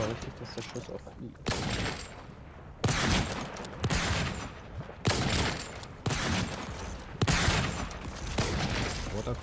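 Repeated rifle bursts in the video game Volcanoids, five or six loud close shots spaced about a second or two apart, each with a short ringing tail, while a player talks over them.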